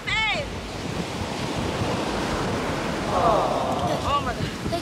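Ocean surf at a beach, a continuous broad wash of breaking waves with gusty wind buffeting the microphone, loud and close, while people talk and shout nearby.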